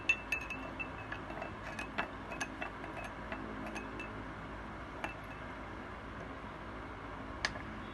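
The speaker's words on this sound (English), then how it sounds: "Now I am adding sugar in the first glass." Sugar goes into a half-filled glass of water, and a spoon gives scattered light clinks and taps against the glass, faint and irregular over a quiet background.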